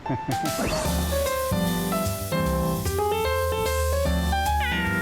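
Stray cats living at a cat-welcoming guesthouse in Chiang Mai meow several times. The rising, drawn-out calls stand out over a steady, tonal backdrop that runs through the whole stretch.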